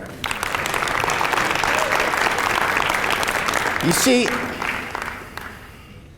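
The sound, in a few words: audience applauding themselves at a keynote talk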